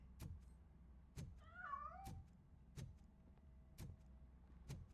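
A cat in the video game Robocop: Rogue City gives one clear meow between soft, regularly spaced thuds, heard faintly against a quiet background.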